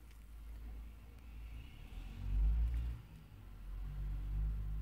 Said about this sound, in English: Sorry if you can hear that truck outside, that's the feed truck for the ducks.